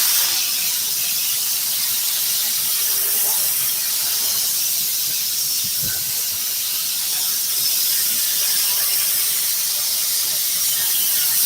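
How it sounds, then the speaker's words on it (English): Aerosol spray can hissing continuously and loudly around the edge of a car sun visor being recovered in an auto interior shop, a steady broadband spray with no talk. "Spray around the edge."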